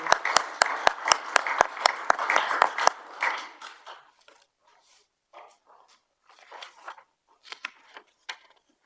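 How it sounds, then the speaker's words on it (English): A small council-meeting audience claps for the team in a brief burst of sharp hand claps for about three seconds, then it fades into scattered quiet murmurs and shuffling. "Big clap to the team."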